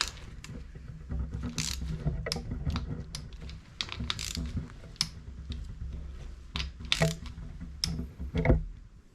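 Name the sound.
torque wrench tightening oil pump bolts on a Mini engine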